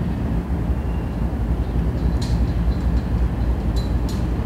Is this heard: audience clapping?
no